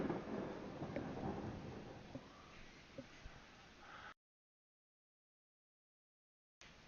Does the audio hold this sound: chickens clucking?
no